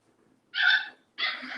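A puppy gives two sharp, high barks close by, separated by a short pause, with near silence before the first.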